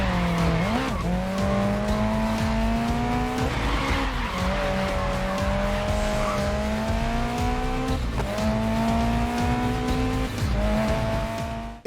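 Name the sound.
car sliding with handbrake, tires squealing, in Mafia video game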